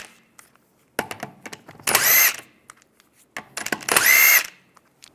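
A power tool with a 17mm socket spins off the wheel bolts of a 1998-2010 Volkswagen Beetle in two loud whirring bursts, each led in by brief clicks and rattles of the socket seating.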